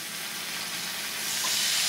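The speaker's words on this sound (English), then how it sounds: "You're gonna hear some sizzle." Steady, loud sizzling of venison searing in a smoking-hot pan, a dense crackling hiss that swells slightly toward the end.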